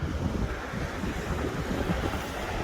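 Steady wind and surf wash along the Pyeongdae seaside on Jeju's coastal road, with broadband roar and wind buffeting the microphone throughout, loud and continuous with no voices.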